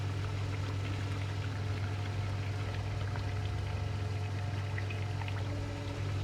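Fuel pours from a jerry can in the Project Zomboid video game, a steady continuous liquid gush over a low constant hum, with no talking.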